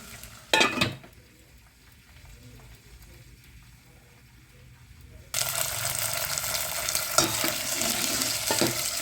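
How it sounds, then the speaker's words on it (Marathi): Green peas sautéing in oil in a pan for a no-onion, no-garlic puri bhaji, with a sharp clatter near the start and a steady, louder sizzle that builds partway through and carries on to the end. "सर्वप्रथम आपण याच्यामध्ये वाटाणे टाकून घेऊया. वाटाणे छान परतून घ्यायचे."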